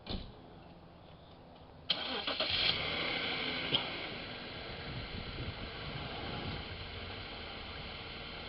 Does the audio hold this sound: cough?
no